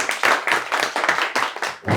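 Student audience at an AC PCB repairing institute applauds with vigorous, steady clapping in quick bursts for two seconds, close and loud, with no talk over it.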